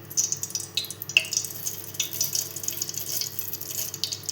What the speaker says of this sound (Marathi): आता मोहरीला आपण तडतडून देऊया आधी.